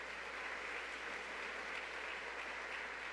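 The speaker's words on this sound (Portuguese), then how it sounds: "Quem crê, diga amém, pode aplaudir o Senhor" A church congregation applauds, a continuous, even wash of clapping that holds steady throughout and sounds fairly soft and distant.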